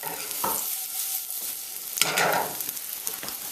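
Onion and garlic sautéing in oil in a pan, a steady close sizzle with stirring scrapes and a sharper burst of frying partway through, with no talk.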